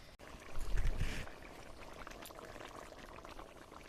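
Pieces of phasa fish drop into a boiling, oily village-style curry broth with potatoes, giving a brief loud splash and sizzle before the pot settles into a steady soft bubbling.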